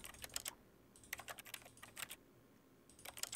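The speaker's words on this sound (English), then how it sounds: "It makes keyboard clicky sounds no matter what I try and do." Rapid bursts of keyboard key clicks sound while playing The Stanley Parable, coming in quick clusters with short pauses between, crisp and close with no voices.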